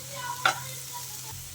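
Ivy gourd (dondakaya) pieces cooking in a pan give a soft, low sizzle under a steady hum, with a single brief scrape or clink of stirring near the start.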